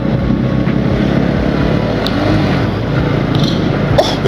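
Motorbike ridden along a pine forest mountain road in North Bengal, a steady loud engine drone mixed with heavy wind rush against the microphone, continuous throughout.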